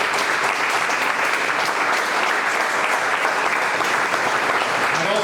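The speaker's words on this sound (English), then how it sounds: "Can we give CVS Health a big round of applause?" Sustained, loud applause fills a room at a panel event as attendees clap for a sponsor, the dense clapping holding evenly throughout with no pauses.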